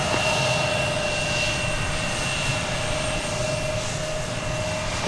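United Airbus A320 jet departing DFW Airport, a steady, loud broadband engine roar holding evenly throughout with a faint constant whine above it.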